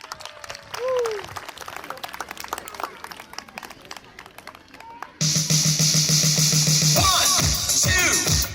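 Parents clap and cheer in a crowd at a nursery school sports day, a steady patter of applause and voices for about five seconds before loud music abruptly takes over.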